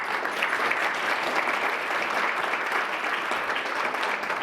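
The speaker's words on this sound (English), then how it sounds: "Let's give them a big round of applause." Steady applause from a crowd at a benefit luncheon symposium, a continuous even roar of many hands clapping at moderate level throughout.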